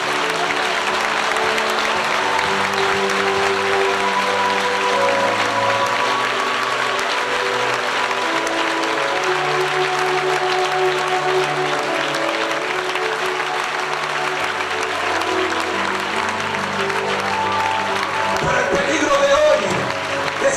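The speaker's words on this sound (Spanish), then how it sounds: "quiero que alguien pueda aplaudir más fuerte" A congregation at a Pentecostal church retreat claps loudly and steadily for about twenty seconds, with sung and spoken voices carrying over the dense applause.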